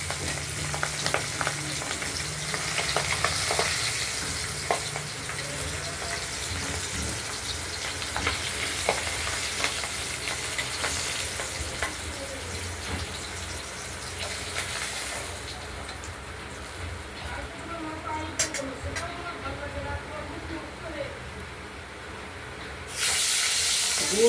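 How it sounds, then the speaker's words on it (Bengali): Pabda fish frying lightly in a pan, a steady soft sizzle and hiss with occasional stirring clatter, continuous throughout with no talk. "খুব হালকার উপরে ভেজে নেব।"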